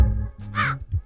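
A single crow caws once, short and close, in a scene from a Telugu children's film, following a low murmur.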